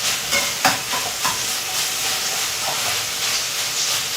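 Vegetables sautéing in a home-kitchen pan, a steady broadband hiss with a few soft scraping stirs near the start, close and fairly loud with no voices.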